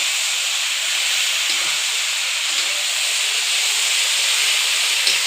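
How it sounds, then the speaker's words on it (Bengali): Fish oil frying in a pan with half a spoon of turmeric, browning to a reddish colour. A steady, even sizzling hiss runs throughout with no pauses. "এবার বেশ ভালো করে লাল লাল করে ভেজে নেবো"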